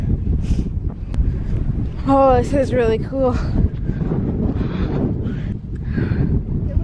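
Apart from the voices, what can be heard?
strong wind on a mountaintop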